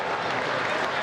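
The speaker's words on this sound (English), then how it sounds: "Round of applause again from the crowd." A crowd at the Maurie Plant athletics meet in Melbourne claps loudly and steadily, a dense wash of applause filling the whole brief moment.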